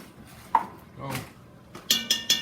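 A spoon scraping and clinking against a pot while tomato paste is stirred into meat sauce for spaghetti, a few close, sharp metallic knocks and scrapes in an uneven rhythm.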